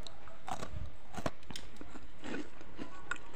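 Crisp, crunchy homemade cookies are bitten and chewed up close, with several sharp crackling bites followed by softer munching and no talk.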